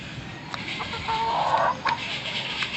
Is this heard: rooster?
yes